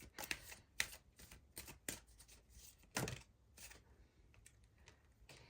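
Tarot cards from a soul journey deck being shuffled by hand, in a run of crisp riffling bursts and soft flicks of card stock, close and fairly quiet with short pauses between shuffles.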